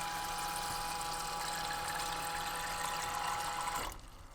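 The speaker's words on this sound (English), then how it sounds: "And look, the pump works." Campervan water pump running with a steady close hum and rushing water through a sink tap, cutting off near the end.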